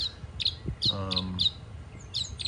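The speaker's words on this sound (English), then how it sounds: "it'll play those clicks that you're going to hear as it's flying over." Bird calls from a field guide recording of a bird flying overhead: a series of short, sharp repeated chirps and clicks, fairly faint against a low background, with a brief low tonal sound in the middle.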